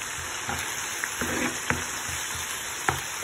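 A masala mixture of onion, turmeric, chili powder and coriander powder sizzles in a pan while being stirred, with a steady frying hiss broken by a few sharp spoon scrapes and clinks.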